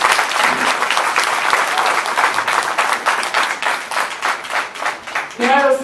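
Audience applause at a political endorsement event for a legislative district candidate, dense steady clapping filling most of the stretch before a voice starts talking over the end.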